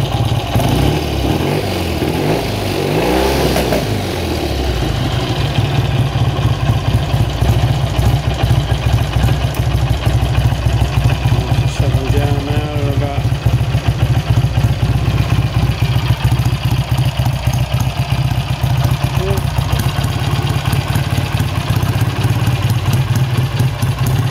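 A 1968 BSA Lightning motorcycle engine idles loudly and close, then its revs rise and hold with a steady buzzing drone and mechanical clatter throughout.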